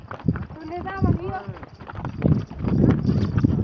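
Horse hooves clip-clop on a trail at Saif ul Malook lake as the animal is ridden, a steady near rhythm mixed with voices talking and calling out throughout.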